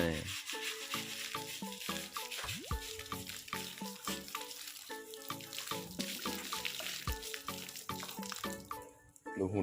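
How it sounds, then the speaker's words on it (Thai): Water splashing and scrubbing on a young elephant at a care center during bathing, with rubbing, dripping and running water in steady, busy bursts throughout, close up and fairly loud. "อาบน้ำครับ อาบน้ำให้เขาขัดเนื้อตัวนะ"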